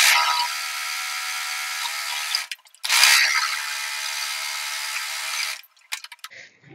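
Sewing machine stitching piping onto a blouse, running in two close bursts of about two and three seconds separated by a short pause, then a few faint clicks as it stops.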